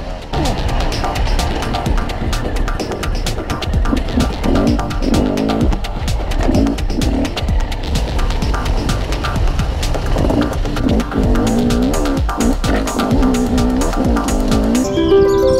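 A Beta RR300 two-stroke enduro motorcycle being ridden, its engine revving and throbbing steadily up close with rising and falling throttle pulses throughout.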